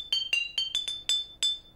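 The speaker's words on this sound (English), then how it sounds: "when we tap on the bottles, you can get different notes" Water-filled glass bottles of a homemade xylophone are tapped about seven times in a quick, uneven sequence, each a bright, close ringing clink at a slightly different pitch.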